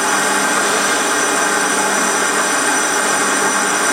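A Warco lathe runs with its toolpost grinder spinning, giving a dense, steady high whine and hiss that holds at constant loudness throughout, with no talking.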